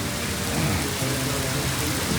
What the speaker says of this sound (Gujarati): મિત્રો તો એવી લેવલે વરસાદ આવે છે